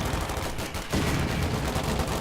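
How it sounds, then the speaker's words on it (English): Dense machine gun fire rattles in Company of Heroes 2, a loud, continuous burst of rapid shots with a brief lull before the firing resumes at full intensity. "And with the suppression and the machine gun and Lieutenant shooting at them, they're going to have to fall back here."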